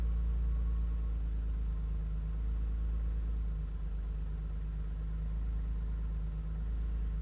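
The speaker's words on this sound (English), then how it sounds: "let's see if it starts. All right, first try." A BMW E30 engine idles steadily and cold right after its first start, a low even rumble that holds loud and close throughout with no revving and no one speaking.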